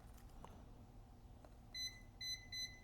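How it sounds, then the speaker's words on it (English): Continuity beeps sound while an iPad Pro 12.9 fifth-generation main power rail with a short circuit is probed: a quiet hum, then three clear, sharp, high electronic beeps close together near the end, with no talk. "Yep, it's beeping, crazy."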